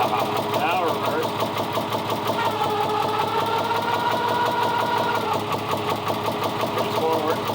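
A 1973 Volvo D4 diesel engine runs steadily aboard an Ingrid 38 sailboat, a continuous, even mechanical drone with a faint high squeal, while voices talk over it.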